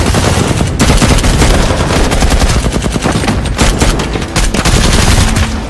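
A firefight between soldiers, with loud, dense bursts of automatic gunfire and overlapping shots crackling continuously and close, with no talking.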